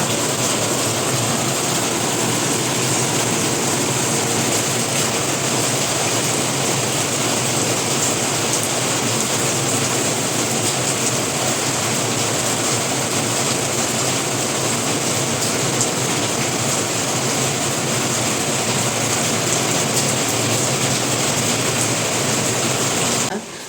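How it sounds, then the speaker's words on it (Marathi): Steady rain falls over a mossy, waterlogged courtyard with trees, a continuous dense hiss that stays loud and even throughout with no voices. "झाली पावसाला पुन्हा सुरुवात"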